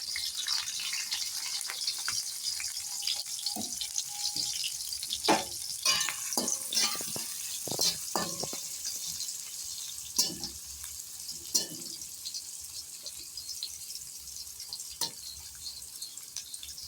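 Chopped garlic, chillies and onions fry in hot oil, with a continuous close sizzle broken by clattering stirs and a few sharp spatula knocks, running on alone for the whole stretch.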